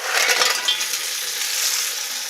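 Washed little neck clams hit a hot pan, setting off a steady, close sizzle with some stirring and shuffling of the shells, fairly loud and continuous with no talk.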